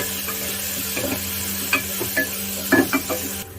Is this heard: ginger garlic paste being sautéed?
yes